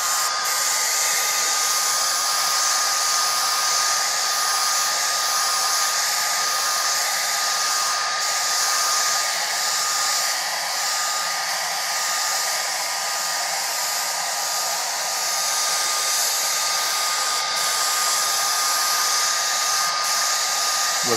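A hair dryer blows steadily and loudly the whole time over airbrushed artwork on rayon, a constant whooshing roar with no pauses and no voices.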